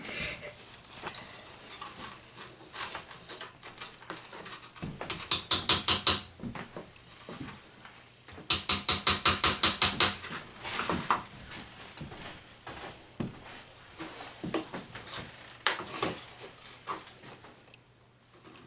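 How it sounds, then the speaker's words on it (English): A diamond dig kit block being chiseled: quiet scraping and tapping with two clusters of rapid, rhythmic metallic knocks, then scattered single taps, close and fairly faint with no talking. "I was just chiseling right there."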